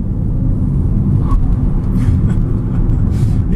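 A 2015 Chevy Spark EV accelerates hard enough to spin its tires, heard from inside as a steady, loud, low rumble of road and drivetrain noise with no pauses.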